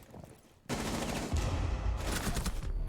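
Rapid automatic gunfire from a Rainbow Six Siege esports match bursts in suddenly and rattles on in dense, continuous volleys after a quiet start.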